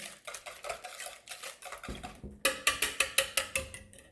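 Brownie batter whisked by hand in a bowl, a wire whisk clattering against the sides in quick rhythmic strokes, then speeding into a sharper, louder beat of about eight regular clacks near the end.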